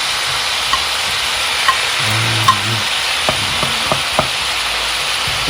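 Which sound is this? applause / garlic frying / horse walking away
garlic frying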